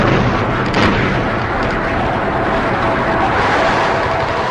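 Aircraft bombing and strafing a fleet anchored in a bay, heard as a loud, continuous roar of explosions and gunfire blending into a thick rumble without pause.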